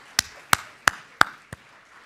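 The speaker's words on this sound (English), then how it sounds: "let's give our family and friends a round of applause for supporting your efforts" At a science and technology institute's final presentations, a group claps in unison five times, each clap sharp and close in an even rhythm, the last one softer, with quiet gaps between.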